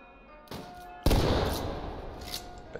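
Two gunshots ring out, a softer report followed half a second later by a loud, booming blast that decays slowly, with a faint thump near the end.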